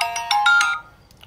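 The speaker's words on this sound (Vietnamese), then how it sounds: "Chuông này." A short electronic ringtone plays on an LG V60 AT&T smartphone, several quick bright melodic tones in a burst that then fades, close and clear with no talk.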